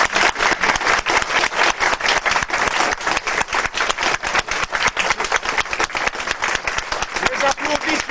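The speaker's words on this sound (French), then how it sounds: "recevoir les applaudissements du public." Audience at a 1996 photo contest prize ceremony of a historical and cultural circle applauds steadily, a dense, even roar of many hands clapping close by for the whole stretch.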